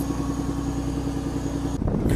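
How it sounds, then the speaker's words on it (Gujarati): A boat engine passes close by at sea, a steady, loud, throbbing motor drone that cuts off sharply near the end, followed by rougher splashing noise. "આ એક બોટ વેટી જ બાજુમાંથી."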